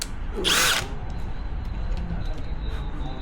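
A short burst of a power drill boring screw holes into the transom of an inflatable boat, loud and close for under half a second, followed by quiet background with faint clicks.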